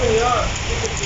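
Light rain falls at night outdoors, a steady soft patter of drops on surfaces, continuous and close for a brief moment with no other clear sounds.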